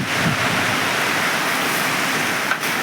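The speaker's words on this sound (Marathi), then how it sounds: "मध्येच पाऊस आला आणि पावसाची गरज पण होती" Rain falls steadily on a farm shed during a groundnut harvest, a loud, even wash of noise with no breaks. A brief knock sounds near the end, and no one speaks.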